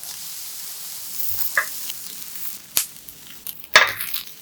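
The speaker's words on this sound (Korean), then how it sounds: "올리브유 2스푼 두르고 달구어지면 가지를 올리고 맛있는 색깔이 날 때까지 구워주고" Quiet, steady sizzling of eggplant frying in olive oil in a pan over medium-low heat, with a few sharp clinks and scrapes of a utensil against the pan.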